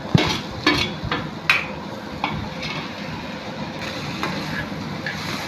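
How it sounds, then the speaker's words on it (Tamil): Onions and tomatoes sautéing in a pan with a spoon stirring, giving scattered scrapes and clinks against the metal over a low, steady sizzle. The clatter is close and moderately loud. "நல்லா வதக்கி விட்டுக்கலாம்."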